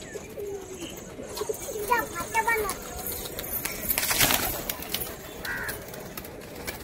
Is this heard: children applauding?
no